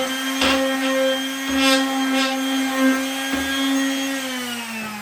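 A power tool whines steadily with a high, tonal drone, broken by brief rough bursts as it bears down, ending with a slight drop in pitch.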